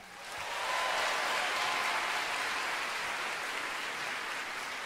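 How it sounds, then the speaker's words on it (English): Audience applause for student designers and models at Iowa State University's 2017 College of Human Sciences fashion show swells within the first second into a broad, sustained wash of clapping from a large hall crowd, holding steady with no talk. "Can we give another round of applause for the talented student designers and models?"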